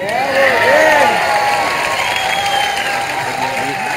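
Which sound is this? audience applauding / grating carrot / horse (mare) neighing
audience applauding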